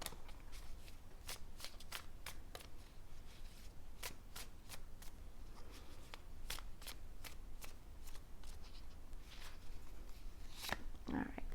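A deck of tarot cards shuffled and riffled in a rapid run of crisp flicks and slaps, then cards drawn and laid down, close and steady with a faint voice near the end.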